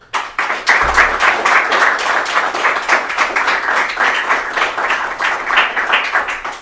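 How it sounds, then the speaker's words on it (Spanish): A studio audience applauding invited guests on a television talk program, a loud rhythmic clapping with distinct beats that starts abruptly and continues steadily. "quiero volverles a pedir un aplauso para nuestros distinguidos invitados"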